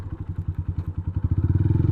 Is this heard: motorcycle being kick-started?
yes